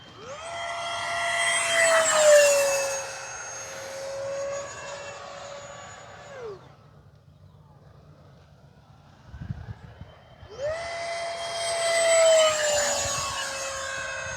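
An E-flite Habu XS 80mm RC jet screams past twice in low passes, its high whine rising and sweeping loud, fading to near quiet between passes before returning strongly.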